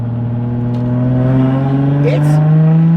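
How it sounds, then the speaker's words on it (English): Loud, droning engine and exhaust of an 800 HP Toyota Supra heard from inside the car, a steady low hum with strong harmonics that climbs slightly in pitch as it accelerates, with brief faint sounds over it. "this car is loud. It's got a lot of drone, it's just a loud car."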